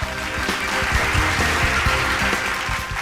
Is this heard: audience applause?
yes